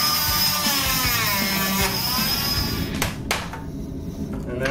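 A hand saw rasps steadily through a stiff plastic mold in quick strokes, loud and close, with a rougher burst of cutting near the end.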